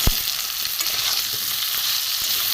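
Chili, cumin and coriander powders with ginger being sautéed in a pan, a steady crackling sizzle with occasional scraping stirs, close and moderately loud, no talking.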